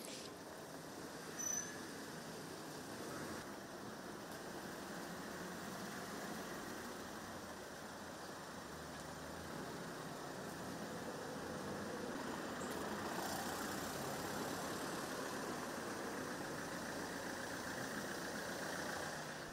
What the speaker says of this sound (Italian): In sottofondo il rumore delle macchine che transitano lungo via Elena